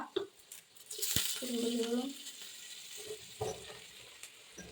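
Curry leaves hit hot oil in a pan while making a raw plantain (kachil) dish, giving a brief bright crackling sizzle that swells for a moment and then settles to a soft fry.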